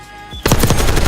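Rapid automatic gunfire in a video game, a short close burst of several sharp shots that starts abruptly after a brief quiet moment.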